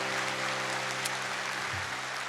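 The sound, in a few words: church congregation applauding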